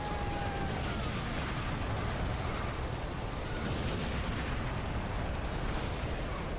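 Dense, continuous rumbling booms and crackling blasts of sustained artillery cannon fire in Earth Defense Force, filling the whole stretch with no pauses.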